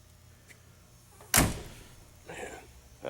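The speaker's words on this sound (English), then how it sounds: "You can always tell the quality of a car by the way the door shuts." A 1958 Mercury Monterey Super Marauder's door shuts with a single solid, heavy thunk, followed by a softer rustle in an otherwise quiet space.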